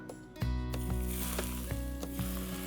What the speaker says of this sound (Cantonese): 個油夠滾咧，你將會見到炸呢個效果㗎